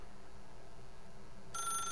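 A telephone begins ringing in The Stanley Parable, a bright electronic trill that starts near the end over a quiet, steady room hum.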